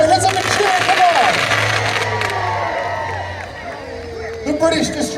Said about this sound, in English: We can now have a cheer for HMS Ajax, Achilles and Exeter returning to support the convoy